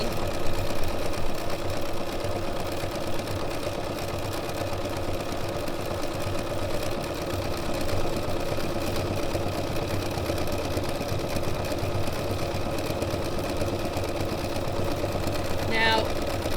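A sewing machine runs steadily while doing decorative stitching, its motor making a continuous close buzzing hum with a faint voice in the background.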